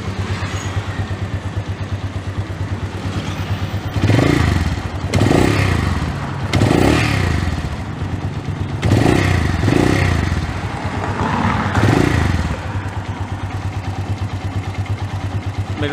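A Honda Phantom 200 motorcycle engine runs close by with a steady idle and slightly noisy top end, rising in several short revving surges, with possible loose-chain clatter.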